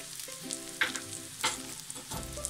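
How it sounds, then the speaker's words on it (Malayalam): Grated coconut is dropped into hot coconut oil and fries with a close, steady sizzle, broken by a few sharper crackles and stirring scrapes. "അതേ വെളിച്ചെണ്ണയിലോട്ട് ഈ തേങ്ങ ഇട്ട് കൊടുക്കുക"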